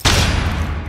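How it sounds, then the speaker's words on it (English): Flashbang grenade detonating in Rainbow Six Siege, a single loud burst that opens abruptly and holds as a dense, roaring wash through to the end, heard alone. "Flashbang is out."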